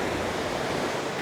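Waves break on the Atlantic Ocean shore in a steady, dense wash of surf, a continuous roar with some wind, heard without talk.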